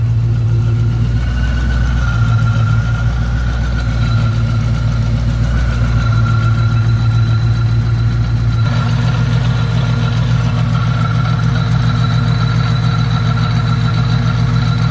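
A warmed-up car engine idling on AMSOIL racing 15W-50 motor oil, a loud, steady low rumble up close with a slight shift in tone partway through.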